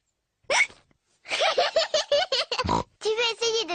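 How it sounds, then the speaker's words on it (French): A young cartoon pig from a French-dubbed children's animated series hiccups repeatedly, with short voiced, piggy, oink-like squeaks and gulps in quick irregular bursts, close and clear. "Le hoquet de Georges les empêche de jouer."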